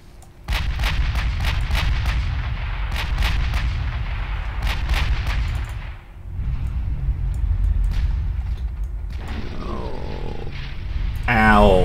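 Naval gunfire of 16-inch shells booms in the Ultimate Admiral Dreadnoughts warship game, with a rapid series of heavy blasts, a brief lull and then more rumbling fire, loud and close.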